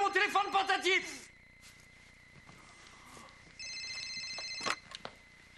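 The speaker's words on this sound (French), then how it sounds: "On tente de communiquer avec moi par le biais de mon téléphone portatif!" A mobile phone rings in a comedy scene. A short burst of electronic ringtone melody plays, followed by a quieter stretch and a later repeated tonal ring, with excited voices around it.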